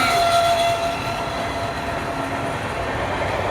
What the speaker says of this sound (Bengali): আমি ট্রেন দেখেছি